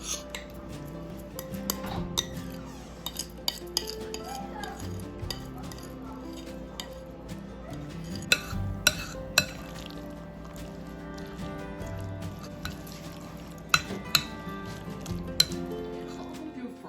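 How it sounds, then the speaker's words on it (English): Knife clicks and taps on a cutting board as food is cut into little cubes, with occasional clinks of dishes and utensils, steady kitchen work close by. "We're going to cut it up into little cubes and put it in the microwave"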